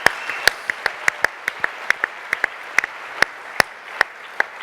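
A small audience at a forum event claps sparsely, about two dozen distinct, sharp hand claps scattered unevenly over a quiet background rather than a continuous roar.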